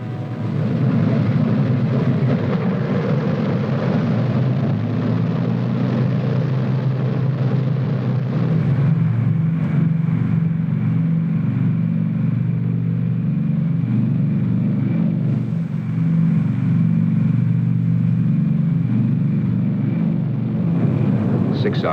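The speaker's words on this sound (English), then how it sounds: "The men are ready for the takeoff." B-29 Superfortress bombers on a World War II mission over Japan, 1945, run their engines in a constant heavy, droning roar that stays loud and steady throughout, with a slight shift in pitch midway, in an old archival recording.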